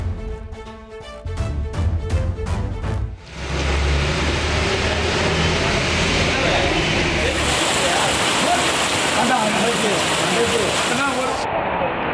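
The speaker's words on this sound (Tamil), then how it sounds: "மாலைக்கு மேல் கனமழை வெளுத்து வாங்கியது" Heavy evening rain pouring down in Chennai after a hot afternoon, a steady loud broadband hiss that fills the scene from about three seconds on, following a brief stretch of tonal music or voice at the start.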